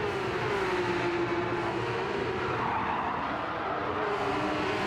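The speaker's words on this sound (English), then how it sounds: "Lots of squealing size at turn one" Sustained squeal of tyres from Porsche Cup cars braking and turning into turn one during an online league race in a racing game, a loud, steady screech over the drone of engines, with no talking.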